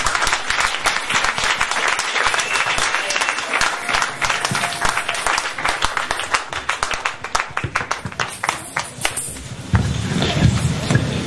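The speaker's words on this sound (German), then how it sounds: "Ich bitte euch um einen dicken großen Applaus für den Herrn." A church congregation gives a big, sustained round of applause at a youth day gathering in Wuppertal, dense clapping with some rhythmic claps running steadily for about eleven seconds, fairly close and loud, with a swell near the end.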